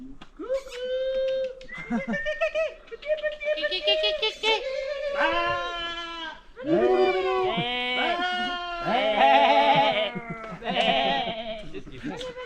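People at an airsoft game imitate goat bleats, several voices trading wavering, nasal bleating calls in quick bursts that overlap and continue almost without pause, fairly close and loud.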